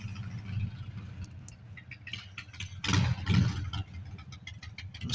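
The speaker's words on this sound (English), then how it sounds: "Motorcycles." Motorcycle engines idle with a low, steady rumble, then swell louder in a couple of brief surges near the middle as they rev, heard without any talk.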